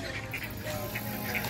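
Ducks quack outdoors in a quick series of short, nasal calls at moderate distance, repeating unevenly over steady background noise.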